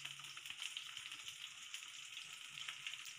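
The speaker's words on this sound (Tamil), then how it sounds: "எண்ணெயில் நல்லா வதக்குங்க" Tomatoes and chillies sauté in hot oil in a pan for a garlic kaara dosai, giving a constant, even sizzle and crackle at moderate volume with no voices.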